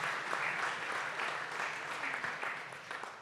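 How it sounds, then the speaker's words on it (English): Audience applause at a startup pitching competition, fairly faint but continuous clapping across the whole stretch, tapering slightly toward the end. "So applause for Emil and his teams."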